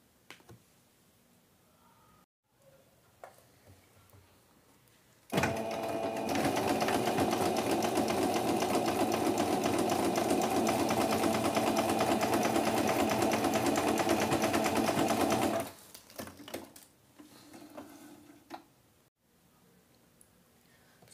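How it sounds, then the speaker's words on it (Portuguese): A sewing machine runs a steady ten-second seam across patchwork fabric with the presser foot, a loud continuous whirring hum between quiet handling sounds. "vou fazer uma costurinha pé de máquina aqui nesse pedaço aqui"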